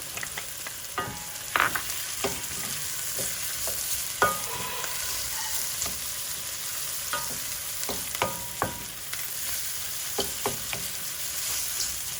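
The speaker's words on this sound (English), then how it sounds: "now I'm going to toss my garlic in" Garlic sizzling in hot oil in a pan with mushrooms, a steady close frying hiss broken by several sharp clinks and scrapes as it is stirred, no talking.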